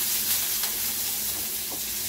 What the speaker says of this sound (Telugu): ఇలా వేయించుకోవాలి, బాగా వేగాలి పచ్చిమిర్చి